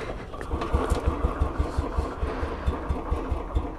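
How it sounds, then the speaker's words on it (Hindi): A Royal Enfield motorcycle, left unused for a month in cold weather, coughs and putters through a rough start, uneven low thumps pulsing close and loud in a steady irregular rhythm. "एक महीने के बाद में बाइक को स्टार्ट करने वाला हूँ।"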